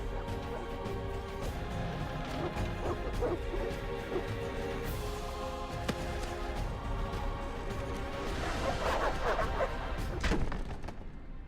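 Dogs attack in The Witcher video game, with barking, yips and whimpers mixed among crashing impacts and game sounds, a dense continuous clamor that swells toward the end.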